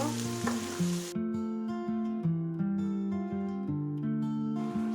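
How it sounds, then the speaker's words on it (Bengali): Gobindobhog rice frying with green chillies for morog polao, a bright sizzle at the start and end, partly buried under a melodic instrumental tune that plays throughout. "চাউলটা সুন্দরভাবে ভেজে নেব"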